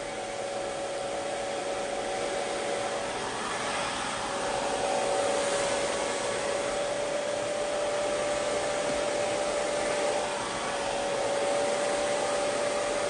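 A hair dryer blows steadily while someone dries their hair, a loud, even, continuous whoosh with a faint high whine and no pauses.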